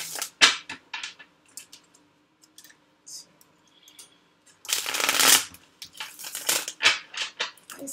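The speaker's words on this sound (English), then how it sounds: "Two more shuffles for Pisces." A deck of tarot cards is shuffled up close in quick, crisp bursts of riffling and slapping, with a short pause and then a louder, longer shuffle near the end.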